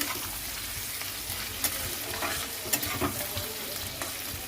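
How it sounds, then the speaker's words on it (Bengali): Vegetables stirred and fried in a pan before they go into dal, with a soft continuous sizzle, occasional sharp clinks of a spatula and gentle scraping, fairly quiet and close. "খুব ভালো করে নাড়াচাড়া করে নিয়ে এবার আমি এই সবটা ডালের মধ্যে দিয়ে দেবো"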